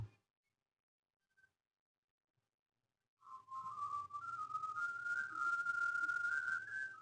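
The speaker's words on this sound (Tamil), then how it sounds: "குக்கரில் மூடி வச்சு ஒரு அஞ்சு ஆறு விசில் விட்டு எடுத்துக்கணுங்க" After a few seconds of silence, a continuous high whistle starts and holds steady, wavering slightly in pitch, as a pressure cooker vents steam while cooking goat head curry.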